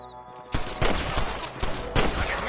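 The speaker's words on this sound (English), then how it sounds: "I can hear more gunshots." Gunfire in Red Dead Redemption on PS4/PS5: a tone cuts off, then several loud, sharp shots burst in quick succession and overlap with booming echoes.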